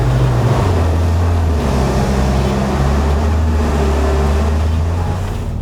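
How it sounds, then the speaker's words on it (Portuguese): A hybrid car's combustion engine hums steadily at idle while charging the battery, a low continuous drone with a faint whining tone layered above it, no voices. "Agora ele ligou o motor a combustão, está carregando a bateria."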